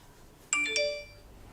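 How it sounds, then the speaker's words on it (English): Instagram notification on a phone during a football match preview chat, a short two-note chime, bright and fairly close, fading quickly against a quiet background. "I've got notifications turned on. Sorry about that."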